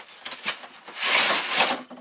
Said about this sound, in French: je découpe l'emballage, on ouvre ça ensemble